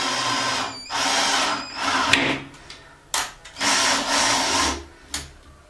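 A power drill bores a hole into a metal profile for a coat rack build, several loud whirring bursts separated by short pauses, close up.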